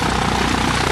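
A small aircraft engine starting up and running, a dense, loud, steady propeller roar heard close, with no voices over it.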